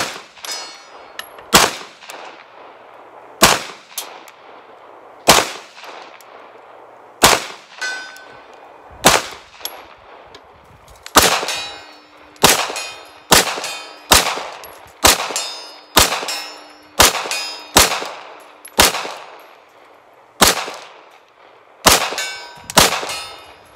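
A series of Taurus G3 pistol shots firing Tula ammunition, each sharp crack followed by a ringing clang of a steel target hit at range, spaced irregularly at first, then in a steadier string, with no talking.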